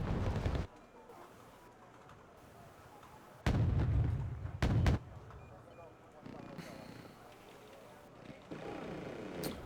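Aircraft bombing in the Wargame video game produces heavy booming explosions, one loud rumbling blast followed by a couple of sharp hits amid battlefield noise, with someone talking over it.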